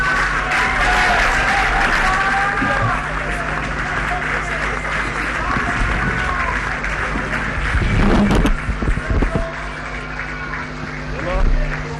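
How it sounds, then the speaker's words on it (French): Members of a plenary senate assembly applauding and cheering after an election result, a sustained roar of clapping and shouting crowd voices, swelling in places, with talk running beneath it. "Ceux qui ont gagné sont en train d'applaudir et vous suivez cette clameur qui part"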